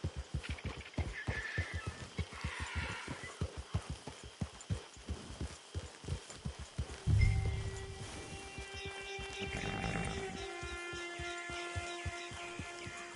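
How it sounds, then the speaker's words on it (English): Horse hooves in Red Dead Redemption 2 Online, a steady, evenly spaced clip-clop of a horse walking close by for several seconds, then fading under a low thump and a sustained humming tone. "Get your horse."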